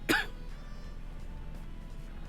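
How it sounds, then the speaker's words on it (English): A single short cough sounds close at the very start, then quiet room background follows. "All this talking making me cough now"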